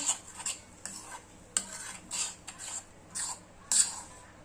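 A spoon stirs a sweet, sour and spicy chutney in a pan off the heat, giving a series of distinct scraping and clinking strokes about every half second. Faint background hum sits between the strokes.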